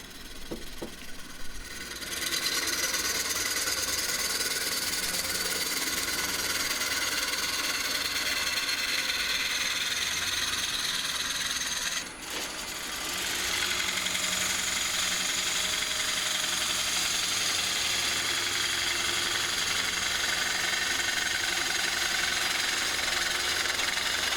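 A wood lathe turns an elm bowl while a gouge makes a push cut, giving a continuous loud whirring, scraping tone. A brief dip occurs partway through before the cutting resumes steadily.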